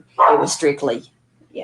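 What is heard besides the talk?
dog barking in the background of a recording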